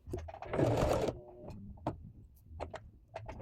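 A sewing machine stitches recycled denim fabric for a flat pouch, an opening burst of running motor followed by scattered short ticks and clicks.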